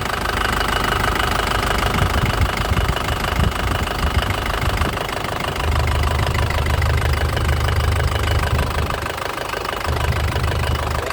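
Engine of a 2007 Isuzu Panther LS Turbo running steadily, a loud, close, rough diesel clatter with knocking texture and a low rumble that swells a couple of times.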